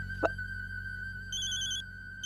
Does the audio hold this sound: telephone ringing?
yes